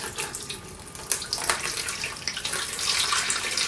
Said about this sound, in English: pour away the DD-X and then pour the ILFORD stop in